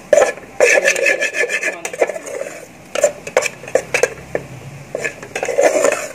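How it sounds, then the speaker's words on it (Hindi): Gram flour (besan) roasting in a pan for halwa, stirred with a spoon that makes repeated close, rasping scrapes and knocks against the metal in an uneven rhythm, with no talk. "भुनाई हो रही है और इसकी भुनाई हम तब करेंगे जब तक हमें इसकी खुशबू ना आए।"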